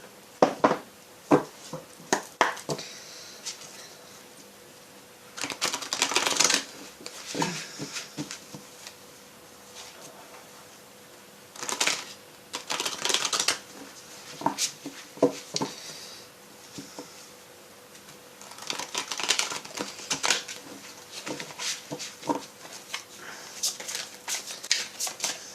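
Tarot and oracle cards are shuffled by hand in repeated bursts of soft riffling and flicking, separated by quiet pauses.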